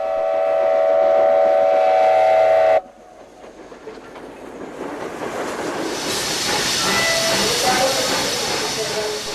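A Soviet steam locomotive, among the last built in the Soviet Union, runs on the Trans-Siberian railway. A loud, steady whistle blast cuts off abruptly, then a rising roar of hissing steam and rumbling wheels builds and holds.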